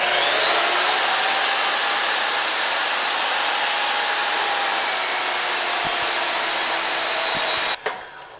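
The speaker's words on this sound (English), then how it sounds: "this is my first time using this miter saw" Miter saw cutting wood in a garage, a loud sustained high spinning whine that runs steadily and then cuts off abruptly near the end, with a faint clunk afterward.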